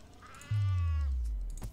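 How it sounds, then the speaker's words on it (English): A cat in the video game Sheltered lets out one drawn-out meow, heard up close and clearly, its tone sliding downward over a low game hum, with no talking. "Oh no, the kitty cat."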